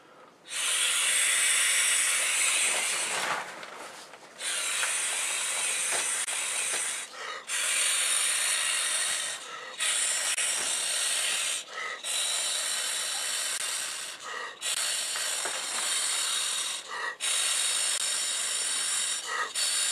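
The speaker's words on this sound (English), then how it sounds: "you just open that up and blow right in" Long breathy gusts of air blown by mouth into the valve of a Big Agnes Clearview sleeping pad, seven or eight steady, loud, close blows separated by brief pauses for breath.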